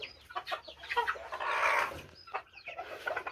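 A hen in a small backyard chicken coop clucks repeatedly while laying eggs, close and moderately loud, with irregular bursts of cackling and a longer squawk midway.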